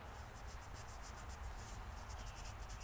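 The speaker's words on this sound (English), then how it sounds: "Using just a little Scotch-Brite pad here to just remove a little bit" A small Scotch-Brite pad scrubs surface rust off a chrome golf club, a faint, rapid back-and-forth rubbing in even, regular strokes under a steady hiss.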